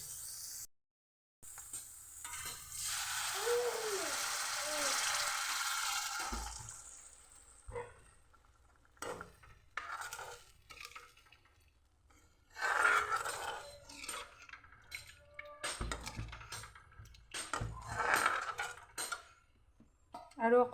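Water poured into a frying pan while fish curry cooks in a home kitchen, a hissing, splashing burst near the start followed by scattered clinks and scrapes of utensils, with quiet pauses in between.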